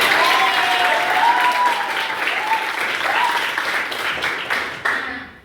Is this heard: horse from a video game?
no